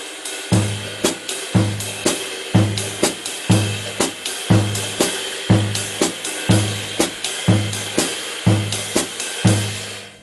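Drum kit played with both feet in quarter-note triplets, low thuds alternating steadily with cymbal or hi-hat wash above, a repeating even pulse of about a dozen strokes, close and clear with no talking.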